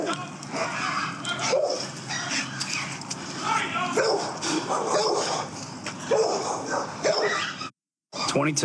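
Dogs barking and yipping repeatedly while mauling a person, amid agitated shouting police voices, close and chaotic, ending in a sudden brief silence.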